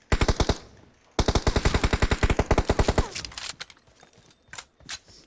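Close, loud automatic rifle bursts in PUBG Mobile on the Erangel map: a short rapid string of shots, a brief pause, then a longer fast burst, followed by a few scattered shots and clatter.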